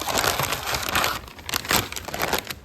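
A sheet of plastic keypad stickers for a Camaro's new ECU setup is handled close up, giving quiet crinkling and crackling in irregular bursts. No voices are heard.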